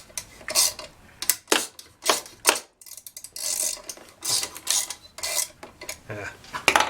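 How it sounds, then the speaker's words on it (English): Screws being worked loose on a Troy-Bilt TB4BP EC backpack gas leaf blower, with close scraping, rasping bursts and light metallic rattles coming in irregular spurts, no speech. "Let me just finish unscrewing these and see."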